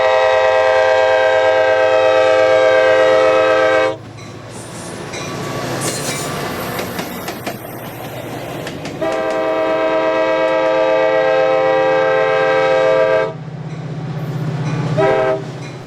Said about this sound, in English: The train crosses Guadalupe River as it leaves Alviso and heads south toward the Great America Station.